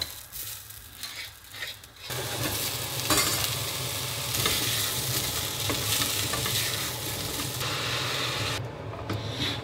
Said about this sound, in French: Mais il n'y a plus qu'à les faire cuire tout ça